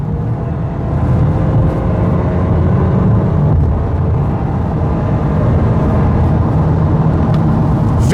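A Toyota Corolla with a 2.0 engine and CVT accelerating, its engine holding a steady droning hum at near-constant pitch inside the cabin, loud and continuous without gear changes.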